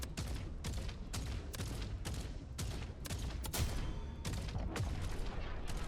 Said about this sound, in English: it seems like we do have automated guns